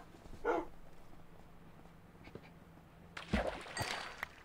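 Minecraft dog, a couple of short barks or yips, one faint and one louder cluster near the end, over quiet background.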